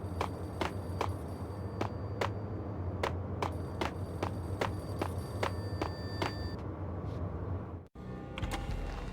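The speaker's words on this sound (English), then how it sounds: "The payphone started to ring." A payphone rings in the Max Payne video game, sounding as regular repeated bursts of ringing over a steady low background hum. The ringing stops near the end after a brief dropout.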